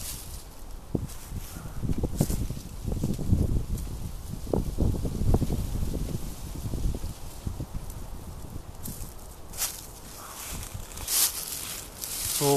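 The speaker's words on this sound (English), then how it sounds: "It's a little windy out here" Wind gusts buffet the microphone outdoors, rising and falling in rough bursts with some rustling, no talking.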